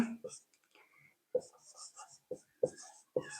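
A pen scratches across paper while a Class 10 NCERT maths solution on Euclid's division lemma is written out, in short bursts of strokes with pauses between them and a soft, low voice murmuring faintly underneath.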